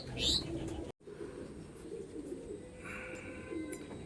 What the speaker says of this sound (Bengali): এই নর পায়রা